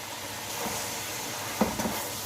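Chicken with a cup of carrots just added, frying in a pan for Chinese-style rice: a steady, close sizzle with faint stirring scrapes and a couple of brief clinks near the end.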